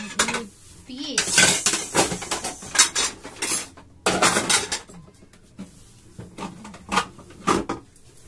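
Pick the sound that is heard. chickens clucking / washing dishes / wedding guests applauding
washing dishes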